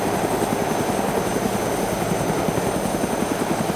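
A helicopter in the video game DayZ thumps steadily with a fast, even rotor chop and engine drone, loud and continuous throughout with no voices over it.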